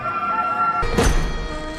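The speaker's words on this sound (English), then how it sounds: "And at once, a rooster crowed." A rooster crows once, loud and brief, cutting in after a sustained musical tone fades out.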